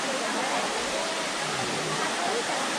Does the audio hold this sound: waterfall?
yes